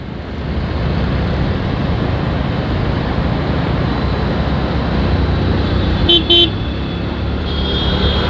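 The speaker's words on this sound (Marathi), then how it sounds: "गर्दी खूप आहे, पण आज ट्रॅफिक जास्त आहे." Heavy road traffic heard from a moving motorbike, a loud continuous roar of engines and wind with a couple of short car horn toots near the end.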